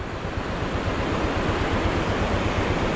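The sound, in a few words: rushing water of a mountain stream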